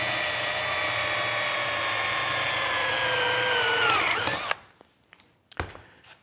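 A 7/16 bit reams a hole through the arm rail of a sack-back Windsor chair, giving a steady, close, high whirring drone that holds for about four seconds, then winds down and stops, followed by a few faint knocks.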